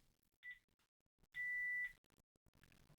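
Panasonic DECT cordless phone beeps while keys are held for a factory reset: a short faint tone, then a longer, louder steady beep of about half a second, with quiet handling noise around them.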